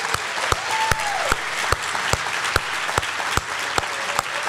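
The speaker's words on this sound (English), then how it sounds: "A round of applause." Audience applause for scholarship recipients at a foundation scholarship banquet: a dense, steady wash of clapping lasting several seconds, punctuated by sharp, regularly spaced clicks.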